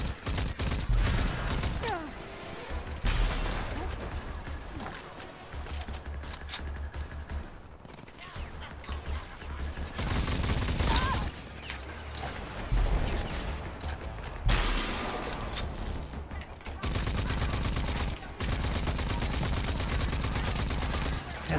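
Dense, sustained gunfire from the video game Rage 2, with overlapping rapid bursts and heavy booms almost throughout, dropping briefly around the midpoint before surging back at full loudness.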